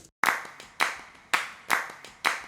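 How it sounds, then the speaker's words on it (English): Hand claps recorded in a small bedroom, layered from multiple passes for the Gravity Falls theme, land as five crisp, sharp hits in a loose rhythm, each with a short room tail. "Actually, I think I started with the claps."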